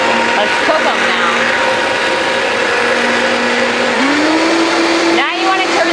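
A blender whirs steadily as it mixes ingredients, a loud continuous motor drone close by that rises in pitch near the end, with no talking over it.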